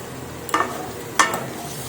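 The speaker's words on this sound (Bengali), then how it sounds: "একটু ভালোভাবে নাড়াবো।" Potatoes frying in a pan for a Rajasthani gawarphali (cluster bean) dish are stirred in two short scraping bursts over a faint steady sizzle, close and fairly loud, with no talking.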